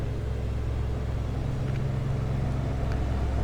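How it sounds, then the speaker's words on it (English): Twin turboprop engines of a Saab 340 in the X-Plane 11 flight simulator run up for takeoff, a steady, loud low drone with a rising hum and no pauses. "and throttle advanced"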